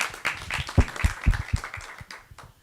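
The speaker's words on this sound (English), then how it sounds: "a round of applause" Scattered applause from a small group in an online webinar setting, several loose claps bunching then thinning out over a couple of seconds.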